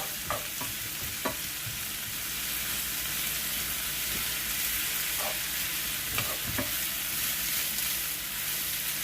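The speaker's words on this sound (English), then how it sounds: "Break that up a little bit in the pan." Bok choy sizzles steadily in a hot pan while being stirred and broken up, with scattered scraping and clacking of the utensil over the constant frying hiss and no voices.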